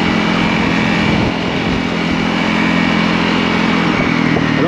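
A Honda CRF300L motorcycle is being ridden with its single-cylinder engine droning steadily at a constant pace, loud and close, with wind noise and no talking.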